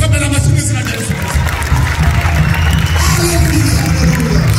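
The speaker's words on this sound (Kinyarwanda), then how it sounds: "Imana yacu tuyikamera amashyi mu izina rya Yesu Kristo" A church congregation at Sunday worship in a Louisville tabernacle clapping steadily, a loud, dense wash of hands and crowd noise with voices mixed in throughout.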